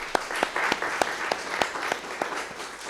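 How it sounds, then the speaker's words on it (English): An audience at an academic talk gives a round of applause, a steady wash of many hands clapping with sharp individual claps recurring at a regular beat, moderately loud and heard alone. "let's give Jill a round of applause"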